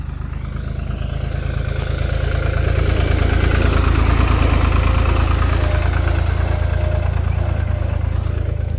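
A Kubota tractor engine idling close by, a loud, steady low rumble that holds evenly throughout with no talking.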